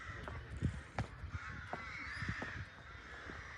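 Rooks cawing beyond a ruined cathedral, several rough, fairly faint calls scattered over a steady outdoor hum.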